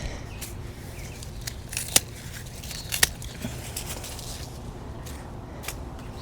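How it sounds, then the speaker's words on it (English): Scissors trim iris leaves in a garden, giving a scattered series of crisp snips and leafy rustles close by over quiet outdoor background. "first things first, trim these irises"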